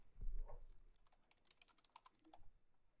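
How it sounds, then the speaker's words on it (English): Keys clatter on a computer keyboard as a new image layer name is typed in Photoshop, a short burst of faint, quiet clicks alone with no voice. "type in a new name."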